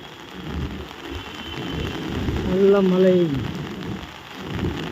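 Heavy rain pours down in a continuous hiss at Porur Junction in the evening, with a brief tonal hum rising in the middle and faint voices mixed in.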